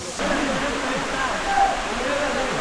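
Waterfall on the Napittachora trail in Sitakunda, a steady broadband rush of falling water filling the whole clip, close and even, with a voice speaking faintly over it.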